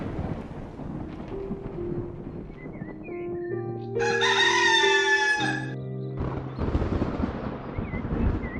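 A rooster in a field crows once, loud and close, a long wavering call standing alone between passages of cartoon-style music and effects.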